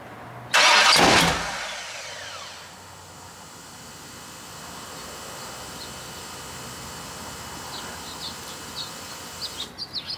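A 408 LS stroker V8 cranked for a first start attempt: a short loud burst of starter cranking and engine noise that quickly dies away, leaving quiet ambience with faint bird chirps.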